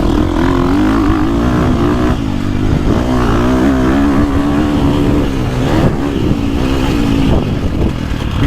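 A 2024 Husqvarna FC350 dirt bike engine revs steadily up close, a loud continuous mechanical drone with slight rises and dips in pitch and no voices over it.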